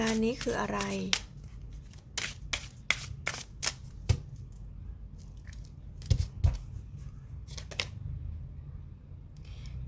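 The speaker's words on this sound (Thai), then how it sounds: "เปิดไพ่ Oracle ให้คุณกันก่อนนะคะ" Oracle cards are shuffled and handled up close in a run of crisp, quick flicks and snaps of varying loudness over about nine seconds, following a brief voice at the start.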